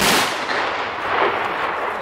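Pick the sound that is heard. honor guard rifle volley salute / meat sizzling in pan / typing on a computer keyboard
honor guard rifle volley salute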